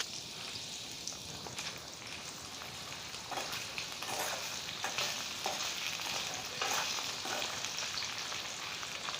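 Potatoes fry in a pan over a low flame, with a continuous sizzle and intermittent scraping strokes as they are stirred, steady and close, with no talking.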